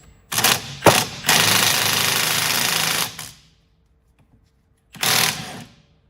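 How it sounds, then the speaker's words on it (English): Power-tool bursts loosen the 14 mm bolts holding a rear brake caliper to its bracket on a 2006-2012 Ford Fusion 2WD: two short rattling blasts, then a long sustained run, a pause, and one more burst, loud and close. "you simply just need to unbolt the caliper from the bracket and put them on separately"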